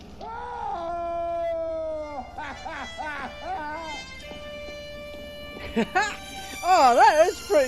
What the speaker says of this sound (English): Wait, that's dog!